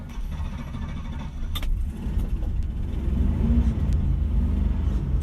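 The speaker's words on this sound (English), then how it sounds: "starting the car up so you can hear how this Shadow sounds" A 1970s Rolls-Royce Silver Shadow engine turning over and settling into a deep, steady idle rumble, close by and growing slightly louder.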